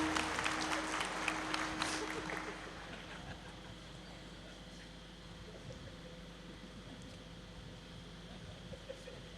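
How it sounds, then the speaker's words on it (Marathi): An audience at a kirtan claps in a brief, fairly sparse patter that fades after a couple of seconds, leaving a quiet hall with faint murmuring. "अशा मरगळ आलेल्या टाळ्या तर टोल नाक्यावरही वाजतात"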